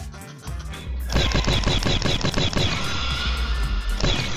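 An MG-42 machine gun fires in a Roblox game, with long, loud bursts of fast, evenly spaced shots that run almost continuously after a short quiet start.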